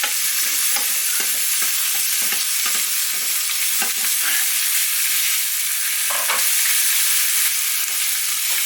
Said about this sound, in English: leave it, let it sear